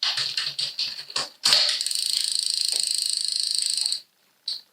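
Rear gears of a Ridley CX commuter bike click and ratchet as the chain shifts across the cogs: a few quick clicks, then a steady close buzzing tick while the drivetrain spins, ending abruptly with one short click after.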